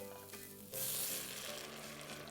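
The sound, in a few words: vegetable stock poured into hot pan, sizzling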